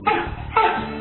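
Two short, sharp dog barks or yips, close by, separated by a brief pause.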